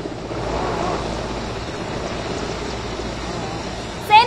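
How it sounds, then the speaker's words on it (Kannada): An army helicopter lands at Chikkaballapur carrying the Prime Minister, its rotor and engine making a steady, loud broadband roar throughout, with a brief rising whine right at the end. "ಸೇನಾ ಹೆಲಿಕಾಪ್ಟರ್ ಮೂಲಕ ಚಿಕ್ಕಬಳ್ಳಾಪುರಕ್ಕೆ ಪ್ರಧಾನಿ ಮೋದಿ ಅವರು ಬಂದಿಳಿದಿರುವಂತ ದೃಶ್ಯ"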